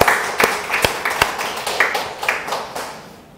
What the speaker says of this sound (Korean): 하나님께 영광의 박수를.